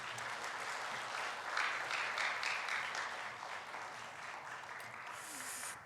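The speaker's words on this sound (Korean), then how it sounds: "나오실 때 큰 박수로 맞이해 주시기 바랍니다" A church congregation gives the pastor a warm round of applause as he enters, a steady wash of many hands clapping in a sanctuary with some voices mixed in, continuing for several seconds.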